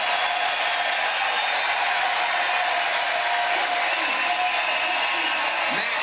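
Continuous roar of a big stadium crowd cheering at the NCAA outdoor track and field championships in Oregon following the 1,500 metres, heard as a distant, even wash under faint talk.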